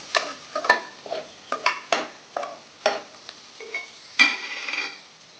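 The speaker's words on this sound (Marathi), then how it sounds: "आता कांदा टाकते चांगला परतून घेऊया" Onion stirred into hot oil with cumin and turmeric for a spicy mutton dish, a spatula scraping the pan in a run of quick, close strokes with clinks and a soft sizzle underneath.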